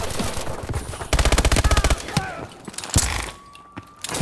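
Call of Duty Advanced Warfare gunfire rattles in a fast, evenly spaced automatic burst, loud and close, surrounded by game effects and mechanical clicks, with a voice talking faintly in places.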